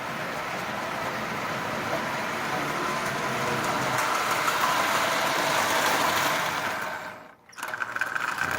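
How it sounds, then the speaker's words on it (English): Marx 994 tin toy locomotive running smoothly on track, a steady whirring, rumbling motor drone held at an even level before a brief dip near the end. "So this locomotive is running just absolutely splendidly. Nice and smooth."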